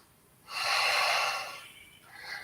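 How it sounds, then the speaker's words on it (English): Deep breathing in a yoga session while holding warrior three: one long, forceful breath through the nose, close and clear, followed by a softer, shorter breath, with no other sound around. "Breathe."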